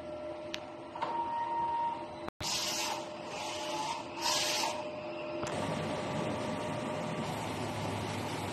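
A DTF printer runs a nozzle test, its print head carriage whirring back and forth with tonal motor hums and a few louder sweeping bursts. The sound is steady and close indoors, with no speech.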